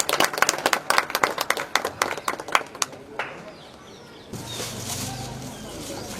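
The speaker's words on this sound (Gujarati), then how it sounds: "આપણે તાળીઓના ગડગડાટ સાથે વધાવીએ." Audience applause at a public library's Brahmarpan celebration in Mahudiyapura, dense clapping for about three seconds that thins out and fades, followed by quieter room noise with a murmur of voices.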